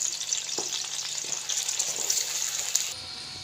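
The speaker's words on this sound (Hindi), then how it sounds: "अदरक और लहसुन को अच्छी तरह भून लेंगे।" Onions with ginger and garlic paste sizzling in hot oil for an aloo, capsicum and chicken curry, a continuous close crackle and hiss with light stirring knocks, cutting quieter near the end, no speech.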